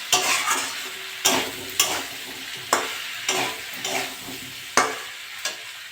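Prawn and potato curry being stir-fried in a pan, with a steady sizzle broken by repeated scraping strokes of a spoon, roughly once a second, close and fairly loud, no talking.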